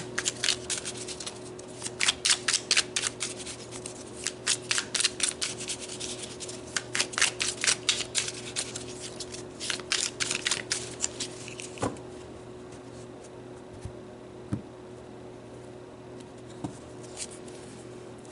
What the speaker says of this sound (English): So let's pull some cards around this soul message right here.